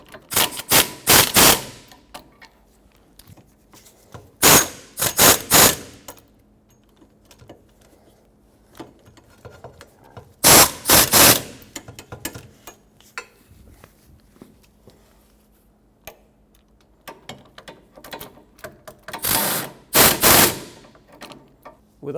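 Ratchet snugging up the wheel hub bolts on a 2018-2023 Subaru Crosstrek during a rear hub and bearing replacement, heard as short bursts of rapid clicking repeated about five times with quiet gaps between, close and fairly loud.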